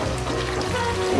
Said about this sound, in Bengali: যতটুকু ঝোল রাখবো ততটুকু পানি আমি দিয়ে দেব।